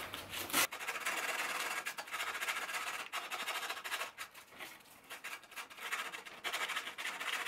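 Metal is sanded by hand with 220-grit sandpaper, making a close, continuous scratchy rasp that pulses with each stroke. No voices are heard.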